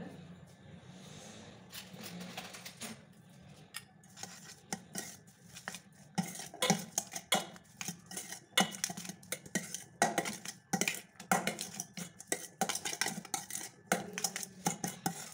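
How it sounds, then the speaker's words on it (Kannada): A spoon scrapes and clinks against a bowl while sweet corn is stirred with butter for masala corn chaat, giving irregular close taps and rattles that grow busier partway through. "ಇವಾಗ ಚೆನ್ನಾಗಿ ಮಿಕ್ಸ್ ಮಾಡ್ಕೊಳ್ಳೋಣ ಇದನ್ನು."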